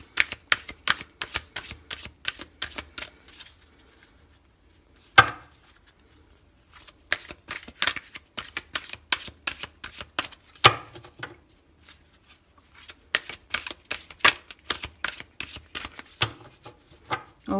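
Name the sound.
shuffling tarot cards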